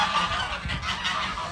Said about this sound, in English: that's the geese